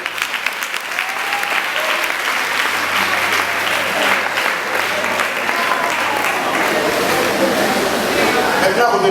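A church congregation at a Sunday service applauds loudly and steadily for the whole stretch, a dense wash of clapping with voices mixed in.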